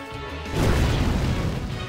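A fire spell explosion in Final Fantasy X Remaster bursts in with a loud, dense whoosh and roar that swells partway through and sustains to the end, with no talk over it.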